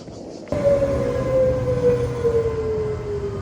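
A train rumbles into a station loudly with a sustained, slowly falling whine, a steady heavy roar continuing throughout with no talking.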